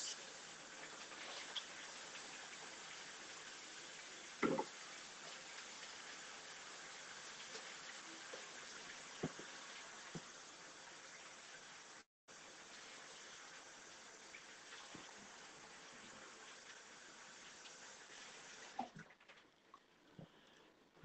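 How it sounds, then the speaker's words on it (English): Tap water runs steadily at a kitchen sink while hands are washed and the faucet is scrubbed after handling raw chicken drumsticks, a continuous close splashing hiss with a few clunks, a brief break midway and a fade near the end. "Wash up. Got to wash the faucets as well."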